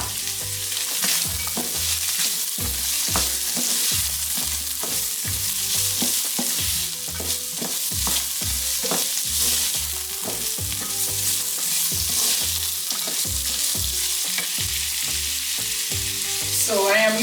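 Carrots stir-frying for shrimp fried rice with pineapple, a steady loud sizzle broken by repeated rhythmic scraping and tossing strokes of a spatula in the pan, close up with no talking.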